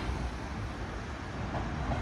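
Tram ride in Germany, a continuous rumbling rattle of wheels on rails heard from inside the car, steady and moderately loud with no talk.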